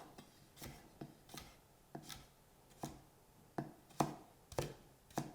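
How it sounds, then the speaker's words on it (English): Knife julienning vegetables into thin matchsticks on a cutting board for a Korean rolled omelette, with about ten sharp, evenly spaced chops that ring out close and clear at a steady rhythm. "So I'm just going to cut down to make my little julienne or little matchsticks."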